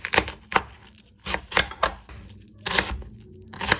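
A knife chops greens into long thin strips on a board, crisp blade strikes landing in uneven bursts of two or three, close and loud.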